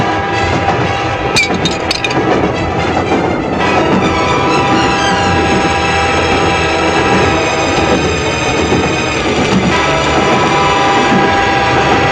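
A train passes on a railway track, a loud, steady rumble of wagons with a rhythmic clatter and a brief horn blast early on.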